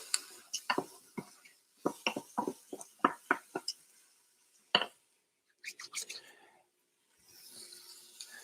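Corn and peppers stirred in an Instant Pot, a run of sharp clinks and scrapes of a spoon against the metal pot, quick and irregular, pausing briefly before a few more taps and a soft hiss at the end.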